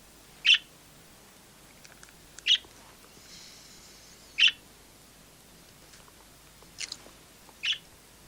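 A bird gives short high chirps, four or five single calls spaced a couple of seconds apart against a quiet room background.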